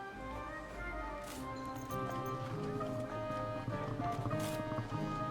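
Horse in the medieval game Kingdom Come Deliverance II: steady clip-clop hoofbeats with a brief whinny, set against layered game music and ambience, fairly close and continuous.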